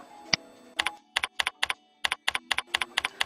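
Brisk typing on a computer keyboard, clusters of sharp key clicks in quick bursts with short pauses, close and clear, preceded by a single isolated tap.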